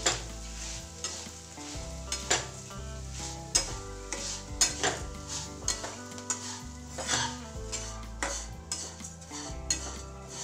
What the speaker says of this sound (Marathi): आता हे पोहे टाकून घ्यायचे आहेत आणि याला थोडंसं परतून घ्यायचं